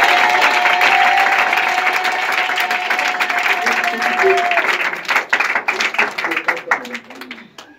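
Church congregation breaks into sustained applause and cheering during a worship service, a dense loud clapping wash that thins out toward the end, with voices mixed in.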